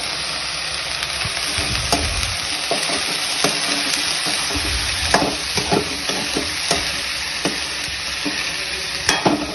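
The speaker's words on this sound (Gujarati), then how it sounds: "આ ચણા નખાઈ જાય થોડીક વાર હલાવીને" Chickpeas being stirred into a pan with sizzling oil, turmeric, curry leaves and garlic-ginger paste for Gujarati chana shaak. A steady frying hiss runs throughout, with scattered scraping clicks of the spoon against the pan and no talking.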